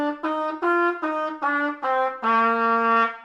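Trumpet played with too much lip pucker, giving a stuffy, muffled tone: five short notes followed by one longer held note, close and clear with nothing else audible.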